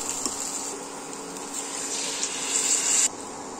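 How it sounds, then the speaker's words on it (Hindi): Water poured into a pan of fried potato and carrot curry, a continuous gushing pour of moderate loudness that swells near the end and then cuts off abruptly. "अब हम इसमें डालेंगे पानी।"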